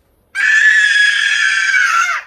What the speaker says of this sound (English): Scream. Scream again.